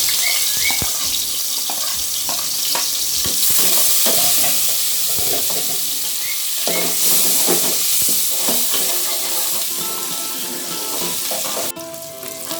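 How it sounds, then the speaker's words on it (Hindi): Ginger garlic paste and garam masala fry in a kadai after browned onions, making a loud, crackling sizzle with scraping stirs and spoon clinks close by. "अदरक लहसुन मेरा भुन गया है"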